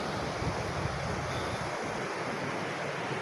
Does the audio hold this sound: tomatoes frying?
no